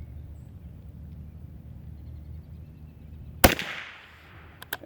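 A single sharp crack from a Ruger American .22 mag rifle being zeroed, a sudden loud report followed by a short decaying echo, then two faint clicks after a quiet outdoor background.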